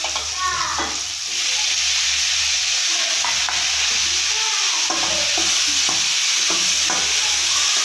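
Onion and tomato sizzle steadily in a hot pan while a spoon scrapes and stirs in repeated strokes, close and continuous, with faint voices in the background.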